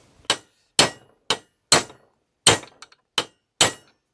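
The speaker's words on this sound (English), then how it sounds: "Get a big hammer" Seven heavy metallic blows from a big hammer on a car driveshaft ring out one at a time at uneven intervals, loud and close, each with a short clanging decay.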